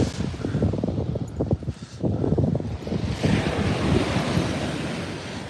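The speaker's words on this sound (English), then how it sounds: "Gotta watch for these waves, man." Ocean surf breaking on a shore during a tsunami watch, a loud continuous wash of waves with strong wind buffeting the microphone throughout, no voices.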